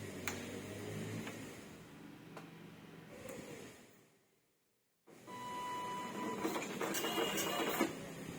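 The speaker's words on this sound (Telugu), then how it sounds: "మళ్ళీ ఒకసారి ప్రింట్ ఇద్దాం, టెస్ట్ ప్రింట్" An Epson LX-310 dot-matrix printer with a faulty power board runs a test print, a near, buzzy mechanical chatter that drops to silence for about a second before starting again.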